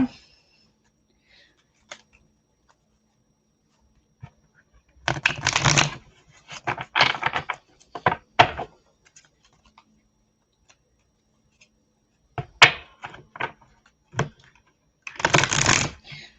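Bursts of tarot card shuffling, close and crisp, in several separate riffles with quiet pauses and a few light taps between them.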